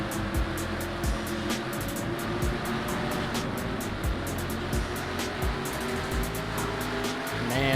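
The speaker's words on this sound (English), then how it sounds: "We're on board with Ryan Reed through this big accident and how he got through it." A stock car roars around Gateway in a sim racing game during a big wreck, the engine drone steady and loud with repeated sharp clicks and rumbling impacts throughout, no talk.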